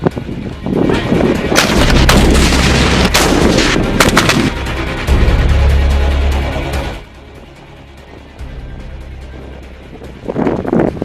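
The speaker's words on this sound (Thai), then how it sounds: "และยิงปืนใหญ่ไปยังที่ตั้งของข้าศึก" Field artillery guns firing during a company-level army training exercise: loud, heavy booming blasts and rolling roar that fill most of the clip, with wind buffeting the microphone and no talk.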